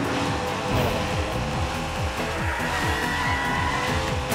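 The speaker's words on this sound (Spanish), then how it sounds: "Ahora entiendo lo de derrape." Cars drift and skid through corners in the arcade racer Hotshot Racing, with a steady engine roar and repeated tire squeals rising and falling in quick succession, loud and continuous with no talk.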